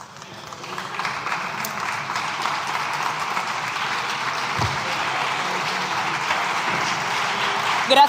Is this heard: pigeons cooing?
no